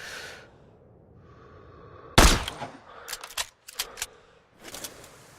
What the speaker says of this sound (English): Set the scope 200 meters to combat bullet drop. Check the wind and pull the trigger.